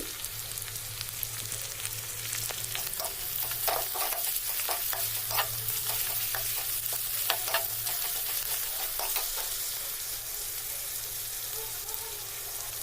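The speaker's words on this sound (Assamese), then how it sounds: "এতিয়া এইখিনি গল্ডেন ব্ৰাউন হোৱালৈকে অলপ সময় আমি ফ্ৰাই কৰিম" Crushed ginger and garlic fry in a pan over medium-low heat for Dhaba-style rajma, a steady close sizzle with occasional stirring clicks and scrapes running throughout, no talking.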